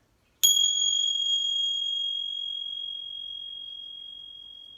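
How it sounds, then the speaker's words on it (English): A single Tibetan bell is struck once and rings with a clear, pure tone that sustains and slowly fades over several seconds. "I'm going to do some Tibetan bells to clear the air"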